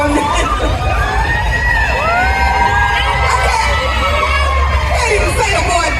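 A large festival crowd at an Essence Festival 2025 stage conversation screams and cheers loudly and continuously, with whoops and high yells blending into a dense roar.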